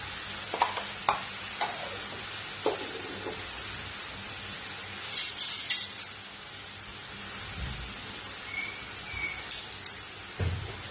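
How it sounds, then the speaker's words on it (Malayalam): Bitter gourd and jackfruit seed stir-fry with turmeric and crushed chili sizzles in a pan, a continuous hiss punctuated by spoon clinks and scraping as it is stirred. "ഇളക്കി നന്നായി യോജിപ്പിക്കാം"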